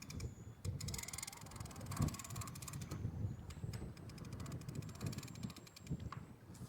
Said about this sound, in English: God, this wind is going like hell now.